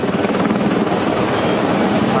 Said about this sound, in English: State Police helicopter is almost directly above the location where these explosions are happening.